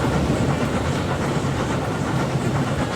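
A coal-fired steam train in Transport Fever 2 rolls across a high viaduct, giving a steady, loud rumble with a rhythmic clickety-clack of wheels on rail and a light hiss running throughout.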